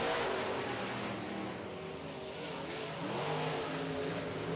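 Modified race cars roar on the last lap of a dirt-track feature race, a dense, continuous engine drone with shifting revs as the pack exits the turn, loud and steady throughout.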